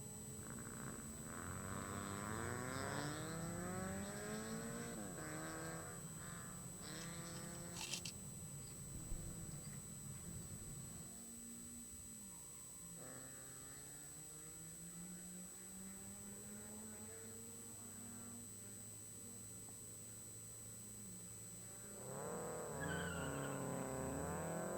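A copper red 2006 Mazda RX-8 race car works an autocross course, its engine rising and falling through repeated revs and shifts, with tire squeal at times, distant and thin at first and louder toward the end.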